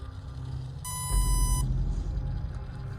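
A SpecTracer detector signalling a detection: one short electronic beep with a bright harmonic tone, over a low rumbling background.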